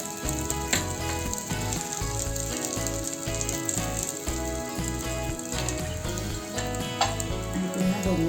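Thalipeeth, a mixed-flour flatbread, sizzles steadily as it roasts in oil in a pan, with a continuous close frying hiss and intermittent clinks and scrapes, no voices.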